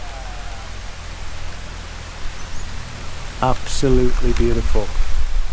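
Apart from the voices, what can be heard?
rain falling with a breeze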